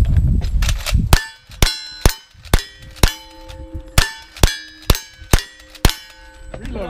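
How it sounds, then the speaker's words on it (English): A bell rung in about ten sharp, evenly spaced strikes at a shooting-range stage, each clang ringing out with a long metallic tail, loud and close, after a burst of rough noise at the start. "I'm ready to jingle the bell."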